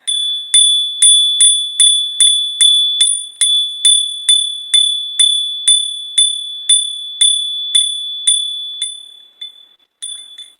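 A bright metallic bell rings in a steady series of about twenty evenly spaced strikes, loud and close, the ringing slowing and fading near the end with one last strike, no voices present.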